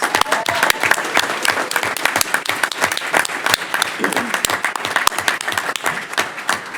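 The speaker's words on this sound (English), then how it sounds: "Let's have a round of applause." A crowd at a city council meeting applauds steadily, dense clapping sustained evenly from start to finish without a break.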